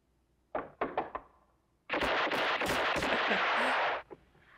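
Gunfire from a 1960s spaghetti western film: a quick series of four sharp shots, then a dense two-second burst of rapid firing, loud and without speech over it.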